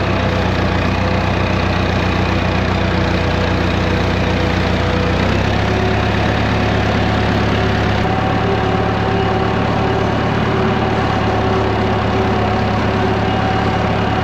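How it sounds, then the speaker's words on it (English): A tractor engine runs in a soft, freshly plowed field, a loud, steady mechanical drone with a slight shift in pitch partway through and no talk. "I'm gonna go through with this tractor and make a nice track with my tire"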